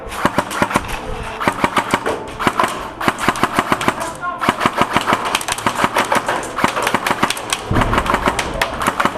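Airsoft gun fire during an indoor CQB game: rapid bursts of sharp snapping shots in quick strings, loud and close, with players calling out over the shooting.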